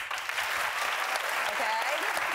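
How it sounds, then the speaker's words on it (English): Studio audience clapping at a daytime talk show, a dense, steady wash of applause from many hands holding at an even level throughout, with some voices mixed in. "Clap if you think it was an honest mistake."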